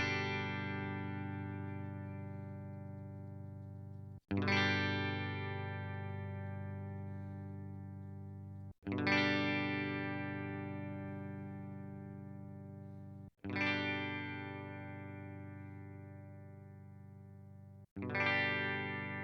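A Telecaster electric guitar with passive pickups, recorded through different cables, strums five chords at steady intervals, each ringing out and slowly decaying before the next one; close and clear, with no talking.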